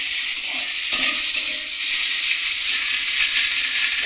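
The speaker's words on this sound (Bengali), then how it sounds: "আমি এখানে একটা বড় সাইজের পেঁয়াজ দিচ্ছি। এটা আমি ভেজে নেবো পেঁয়াজটা।" A large chopped onion frying in a pan for a cauliflower-stem dish gives a loud, close, even sizzle, with a brief spatula clatter near the start.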